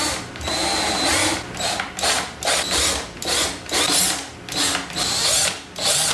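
Power drill driving a screw through netting on a semi-hydroponic living wall, repeated whirring bursts with ratcheting clutch clicks, about eight pulses of start-and-stop drilling close by, no voices.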